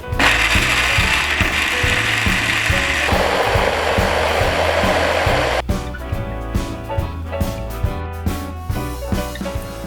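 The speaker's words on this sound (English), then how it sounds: "It's time to blend. I blend this only for a few minutes." A blender runs continuously, blending vegan ricotta for a cannelloni filling, loud and close with a steady whirring roar that shifts pitch partway through as the mixture thickens.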